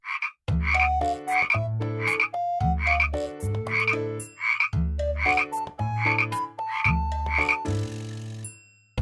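A frog croaks loudly and repeatedly in a steady rhythm, deep pulsing calls with rising chirps, close and clear with nothing else around.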